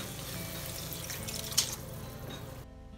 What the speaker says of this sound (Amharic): ውሃ ጨመር እያደረግን ማቁላላት ነው።